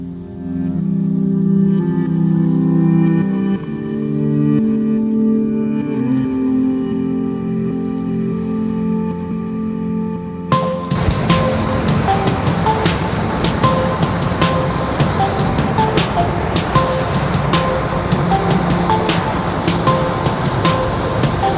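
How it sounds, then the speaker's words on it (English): A waterfall at Craflwyn in Wales, with a natural stone bridge and black rocks, gives a steady, full rushing roar that comes in about halfway, after a quieter tonal stretch that sounds like music. "This was the main waterfall, and it was amazing to see the natural bridge across with stone and the black rocks"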